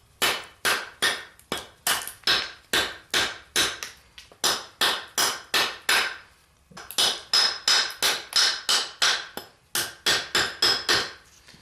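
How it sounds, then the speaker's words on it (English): A 154CM stainless steel knife chops repeatedly into wood, sharp loud strikes in quick rhythmic bursts of several blows each, with short pauses between groups. "Now I get the cuts a little bit more direct onto the wood"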